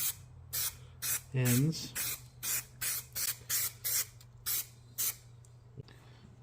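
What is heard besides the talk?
spray priming bolts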